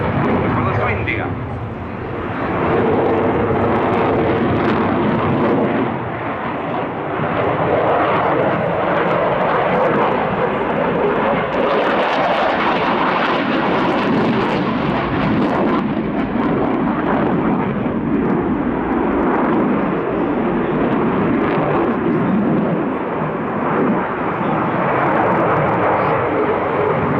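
A Dassault Rafale C fighter jet performs a flying display at the RIAT 2018 airshow, its engine a continuous loud, rumbling roar that swells and fades slightly for nearly half a minute, with a voice talking over it.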